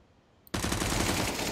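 Sustained automatic gunfire from CS:GO in a competitive match, bursting in abruptly after a short quiet lead-in and continuing loud and dense to the end.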